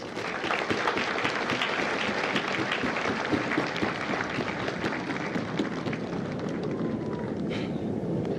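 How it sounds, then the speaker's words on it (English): A large crowd at a Marine Corps recruit depot graduation in San Diego claps continuously, a thick, sustained roar of applause heard outdoors with a slightly windy, distant quality and no speech. "Give yourselves a round of applause, please."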